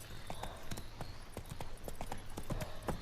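Horse hooves clip-clop in a brisk, even trot in The Witcher 3, the sharp, close beats keeping a steady rhythm over a low ambient bed.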